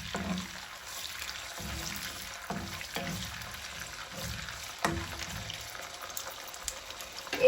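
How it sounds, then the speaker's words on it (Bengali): A little water poured into fried onions in a pan during home cooking, soft hissing and sizzling with light gushing, faint and continuous with small scattered clinks. "এখন আমি এই পেঁয়াজের মধ্যে অল্প পানি দিয়ে দিব।"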